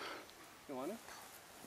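A single short, raspy yelping call from a wild turkey hen, heard once amid quiet outdoor background near Spokane, Washington, fairly distinct but not very loud.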